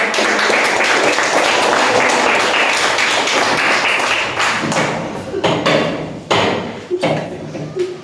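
Classroom of primary pupils clapping together, a dense steady patter of many small hands that thins and breaks into scattered claps toward the end, with a few louder thumps.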